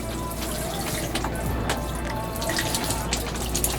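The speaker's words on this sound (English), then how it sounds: "I'm trying not to splash too much out of the shower here." Shower water running while rinsing off sand after a saltwater outing, a dense continuous spray and splash close by, steady throughout with no talk.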